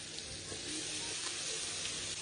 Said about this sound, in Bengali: পেঁয়াজগুলো ভাজা হয়ে গেছে এবার শাকটা দিয়ে দেবো